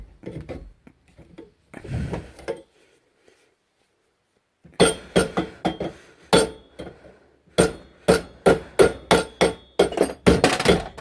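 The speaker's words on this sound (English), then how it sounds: "I'm just gonna be making the holes a bit bigger with a hammer" Sharp metal hammer strikes on a railroad spike mace as its holes are widened, loud and close: a few scattered hits, a pause, then a steady, evenly spaced run of about a dozen ringing blows.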